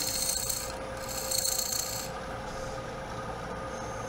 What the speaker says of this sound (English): my little V scraper, I'll just put a little mark